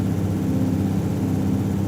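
Airship engine running in the video game Everwind, a steady low droning hum with a faint mechanical flutter, continuous and fairly loud throughout with no talking.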